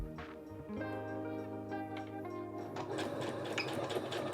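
A sewing machine stitches in reverse along a fabric phone pouch with a flap and hand strap, a steady mechanical whir running close and continuous throughout, growing slightly louder and busier toward the end.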